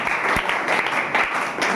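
Group applause at a class 10 school quiz competition as a team is introduced, a steady patter of many hands clapping throughout with a faint voice underneath.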